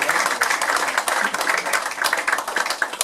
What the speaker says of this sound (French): On peut l'applaudir parce qu'elle fait un travail.